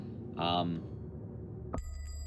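In a horror video game, a brief voice-like tone is followed by a single bell strike whose clear metallic ring sustains to the end.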